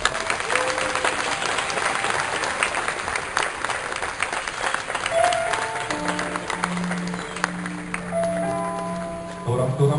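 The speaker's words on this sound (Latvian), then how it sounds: "Aplausi" Audience applause fills a graduation ceremony hall as university board chair, rector and teaching staff are welcomed, a steady dense clatter of many hands throughout, with a few sustained musical tones entering near the end.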